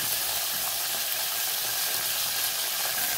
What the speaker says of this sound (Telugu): నూనె వేడి చేసుకున్నాం, అందులో పోపిత్తులు వేసుకున్నాం, కళ్యామాకు వేసుకున్నాం